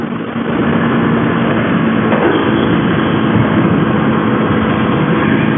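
A KTM Duke 250 motorcycle out on a test ride: a dense, steady engine drone with rushing wind noise, holding a constant loudness throughout after a brief softer start.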